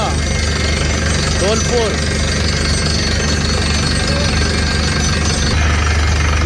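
An Ashok Leyland borewell drilling truck bores through the ground with a loud, continuous, rapid hammering and a heavy low engine drone, steady and close throughout, as a person talks briefly over it.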